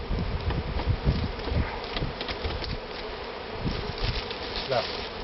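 Dense buzzing of many bees from a swarm being collected at a hive in Loudéac, Brittany, steady and close, filling the whole stretch with a busy insect hum.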